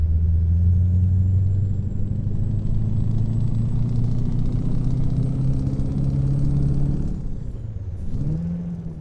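In American Truck Simulator, a Scania truck engine drones loudly and steadily with a whining transmission tone that climbs slowly, then drops away and shifts near the end, heard close without speech.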